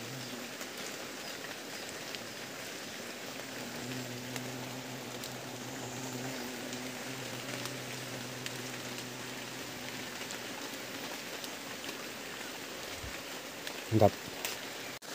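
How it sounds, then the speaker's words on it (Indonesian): Rain falls steadily during palm sap tapping outdoors, a soft constant hiss of drops on the surroundings at low level, with a brief knock and a few spoken words near the end. "ini juga sementara hujan"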